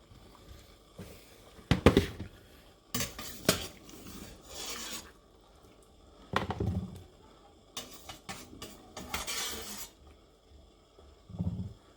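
Homemade carp fishing boilies are scooped out of a pan in a series of intermittent scraping and rasping bursts, close and fairly loud, separated by quiet gaps.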